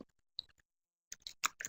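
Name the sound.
typing on a keyboard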